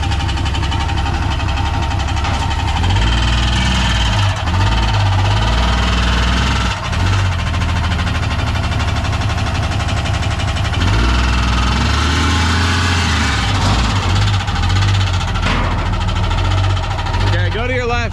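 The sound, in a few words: broken truck transmission making noise while driving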